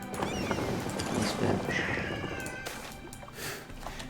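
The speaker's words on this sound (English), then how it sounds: "He's not even meowing, he's howling at this point." An indoor cat lets out a drawn-out, wavering howl that rises briefly above a busy background hum, sounding fairly near but not loud.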